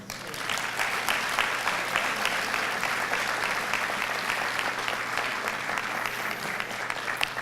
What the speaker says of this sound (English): one big round of applause for all these amazing businesses